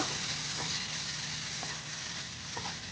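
Chopped tomato frying in a pan with chili powder and turmeric powder over low heat: a dense, steady sizzle with a few soft stirring scrapes, no voices.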